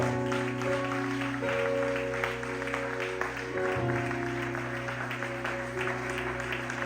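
Church congregation applauding the Lord, steady clapping layered over sustained organ or keyboard chords and a low hum, moderately loud throughout.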